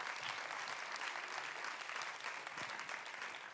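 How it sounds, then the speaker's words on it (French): A conference audience applauds the panel speakers with a faint, even, sustained clatter of hands, heard from afar in a large room with no talking over it. "Mais on peut applaudir, effectivement,"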